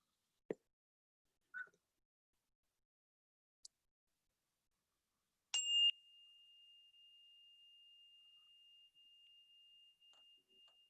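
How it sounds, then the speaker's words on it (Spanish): After a few faint taps and clicks, a meditation bell is struck once to close a practice session, its clear pure tone ringing on and slowly sustaining for several seconds in near silence. "escuchando el sonido de la campana"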